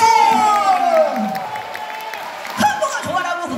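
Audience at a pansori performance breaks into clapping and cheering while a sung melody carries on, with a crowd swell near the end.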